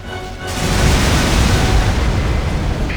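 An air strike bomb detonates in Halo Wars: a sustained, loud, broadband roaring blast that swells after half a second and rumbles on steadily to the end, with no talk over it.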